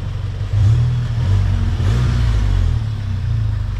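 Tuned Seat Leon Cupra R, 400 hp stage 2, running with its exhaust valve closed: a close, steady, deep engine rumble with a slight swell early on, heard alone.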